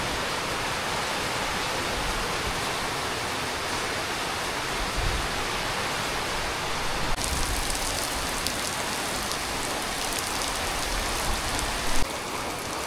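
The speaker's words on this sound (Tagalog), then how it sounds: "Ulan at saka hangin na po mga bay." Heavy typhoon rain pours down on an island along with gusting wind, a dense, constant roar of water that holds loud throughout, with a few faint low thumps and a brief bump near the end.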